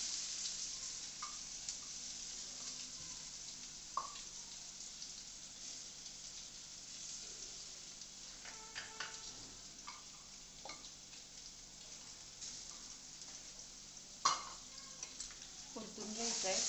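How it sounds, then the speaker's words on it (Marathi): Finely chopped onion sizzles softly in a pan, a steady low fry broken by occasional scrapes and taps as it is stirred, with no talking. "शिमलीचा कांदा फ्राय करायला टाकला."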